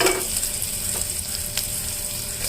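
Vegetables frying in a small amount of oil, a constant near sizzle punctuated by two or three light stirring scrapes; no voices present.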